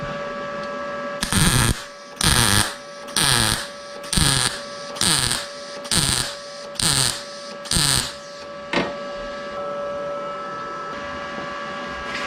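Arccaptain MIG 200 welder laying stitch welds, with eight evenly spaced bursts of loud crackling buzz about a second each, separated by short pauses, over a steady machine hum.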